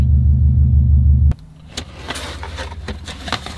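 Subaru STI S209 with an Invidia N1 race exhaust, a loud deep idling rumble that cuts off abruptly after a second, followed by quieter clicks and rustling handling sounds.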